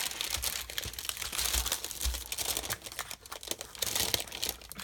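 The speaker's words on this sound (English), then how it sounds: "I'm just going to stick this paper in here" Restaurant paper is crumpled and pressed into a journal, close crinkling and crackling in irregular bursts with soft rustling between, no talking.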